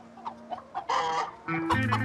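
A hen clucks after laying an egg: short repeated clucks rise into loud, drawn-out squawking cackles close to the listener, with a steady tonal hum running beneath.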